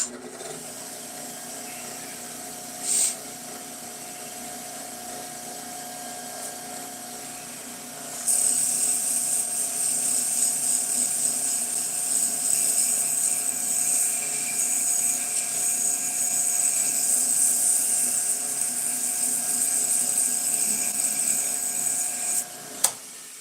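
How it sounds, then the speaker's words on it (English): Sanding a wooden top by hand with a power tool, a steady high whirring grind that starts partway through and runs continuously, fairly close, alone without speech. "let me sand this up a little bit"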